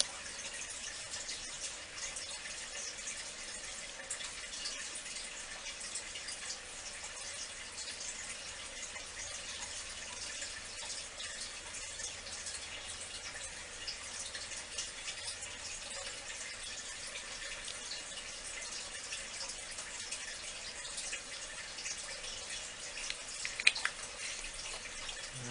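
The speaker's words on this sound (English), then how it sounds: "I'm going to rinse my brush" A paintbrush is rinsed under running water, a steady, even hiss of the flowing tap that continues unchanged throughout, fairly quiet and close, with a few faint clicks near the end.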